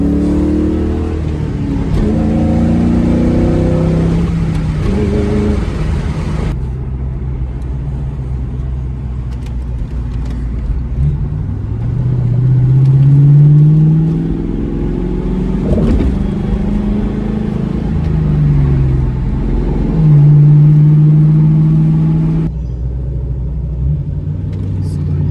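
A New Edge Mustang GT's engine drones and rumbles steadily while driving, rising in pitch as it accelerates through gears with road and wind noise around it, loud from inside the car.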